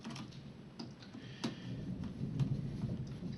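Low thunder rumbles outside during the first rain after a dry spell, a soft continuous roll with a few faint sharp crackles, distant and fairly quiet.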